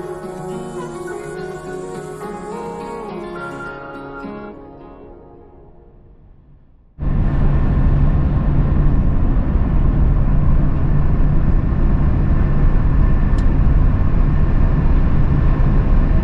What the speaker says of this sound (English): it's time to listen to the sound of the TGV Duplex at a high speed of around 300 to 320 kilometers per hour